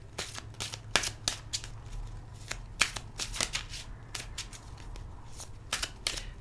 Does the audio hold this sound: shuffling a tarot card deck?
yes